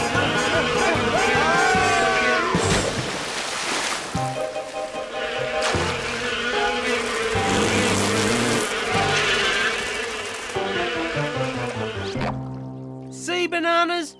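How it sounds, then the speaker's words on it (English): Cartoon buzzing of a bee swarm in Bananas in Pyjamas, a continuous droning hum layered with music and hurried character voices, loud throughout and ending in a splash-like clatter as the characters flee into water. "It sounds like something buzzing. Buzzing bees!"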